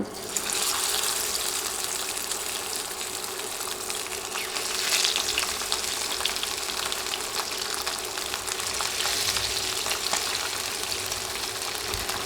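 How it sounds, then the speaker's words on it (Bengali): Tilapia fish pieces fry in hot oil, giving a steady, even sizzling hiss that carries on unbroken, moderately loud and close. "তেল ভালোভাবে গরম হলে এবার মাছের পিসগুলো দিয়ে দিব"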